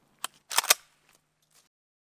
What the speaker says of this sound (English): First, I'm gonna do some double lot buckshot out of my Benelli Supernova